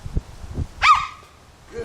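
A dog gives one sharp, short bark midway after some low thumps and faint murmuring, fairly close, then goes quiet.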